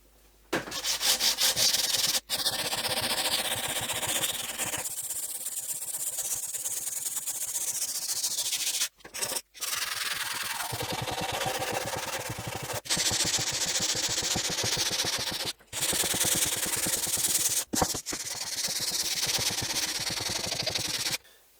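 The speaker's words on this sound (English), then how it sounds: "I'm now going to sand it so that I can mask the top as well" Wood filler sanded by hand on a Telefunken Operette 6 radio cabinet: long, steady, close rasping strokes that run almost without a break, with a few brief pauses and no speech.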